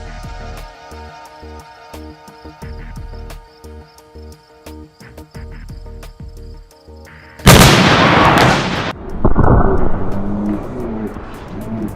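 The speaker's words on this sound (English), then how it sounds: "we're gonna just show Ahin exploding a pumpkin" A pumpkin is blown apart by an exploding target, a sudden loud blast after a stretch of engine-like rumbling and knocking, followed by a strong, ringing, slowly fading rush of noise.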